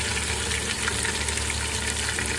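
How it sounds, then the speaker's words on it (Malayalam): Chicken pieces frying in ghee in a pan for a Kerala-style chicken biryani, a steady, close sizzle and crackle of hot fat running unbroken throughout with no talking. "അങ്ങനെ നമുക്ക് ചിക്കൻ ഫുള്ളായിട്ട് ഒന്ന് വറുത്തെടുക്കാം."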